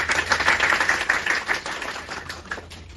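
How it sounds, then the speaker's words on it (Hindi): Audience applause at an International Women's Day gathering: a dense, steady patter of many hands clapping, loud at first and then gradually thinning and softening. "अपने लिए ताली"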